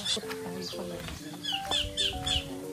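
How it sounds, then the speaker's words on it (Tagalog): Small birds chirp and tweet in quick bursts outdoors in the Philippine countryside, fairly faint, with soft rustling and other background activity. "Oh, mga ibon."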